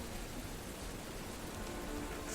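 Rain falling during a storm, a dense, even hiss of drops striking surfaces, steady and fairly loud, with no voices over it.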